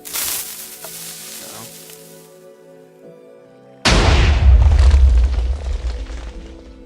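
TNT cannon in Minecraft firing and exploding: quieter crackling and muffled activity, then at about four seconds a loud, close, broadband blast with deep rumble that decays over the final seconds.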